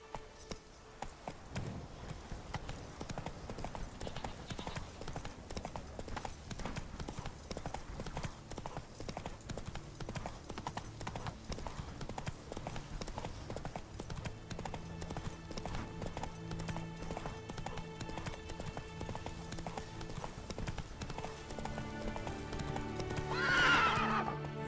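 A horse gallops in The Witcher 3, a steady rapid clatter of hooves running continuously under game music, with a brief snort or whinny near the end.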